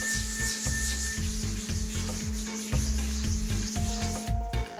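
Hand sanding of polished concrete produces a steady close rasping rub in rapid repeated strokes, with a low hum from a small dust-extraction system underneath.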